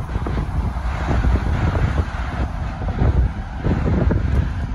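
Strong outdoor wind buffets the microphone in a continuous, loud, low rumble with gusty surges throughout, and no voice is heard over it.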